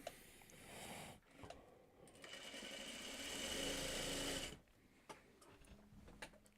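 A sewing machine stitches pieces of fabric together in two sustained whirring runs, the second longer, broken by a short pause. Soft clicks and handling noises follow at the end.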